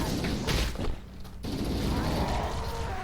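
Heavy gunfire in Halo: Combat Evolved, loud continuous shots and blasts filling the stretch, with a brief lull before the firing resumes.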